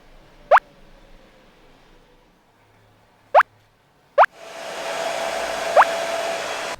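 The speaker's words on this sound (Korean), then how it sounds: "이 드라이기로 한번 이 뿌리 쪽을 살려주고" A few sharp plopping clicks in a quiet room, then a hair dryer switches on and blows steadily at the roots of a man's hair with a loud, close whoosh.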